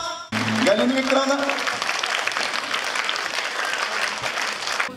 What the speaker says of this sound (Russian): Благодарные зрители дарили Галине цветы, улыбки и нескончаемые аплодисменты